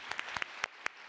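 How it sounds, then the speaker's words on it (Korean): Applause at the close of a special session of an economic forum in Korea, heard as a faint, thin wash of clapping with a few sharper individual claps standing out at irregular moments. "우리 이창용 총재님께 다시 한번 뜨거운 박수 부탁드리겠습니다"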